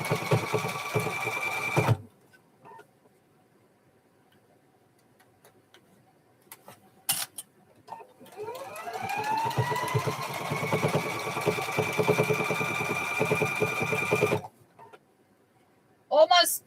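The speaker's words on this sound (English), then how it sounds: "with the serger." A serger stitching hoodie fabric starts with a brief whir, falls silent, then spins up with a rising motor whine into a fast, steady mechanical chatter for several seconds before stopping abruptly.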